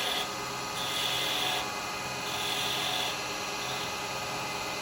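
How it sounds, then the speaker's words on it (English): A carbide round chisel scrapes a spinning piece of wood on a lathe, cutting the diameter down to a small angle ornament, with a steady, even hiss and rasp that swells and eases slightly as the tool passes. "I'm just going to use my round chisel. Bring that diameter down."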